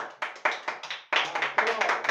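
Hands clap in a lively run of sharp, evenly spaced claps at moderate loudness, with a brief pause before a second burst, in a Hindi-language classroom grammar lesson.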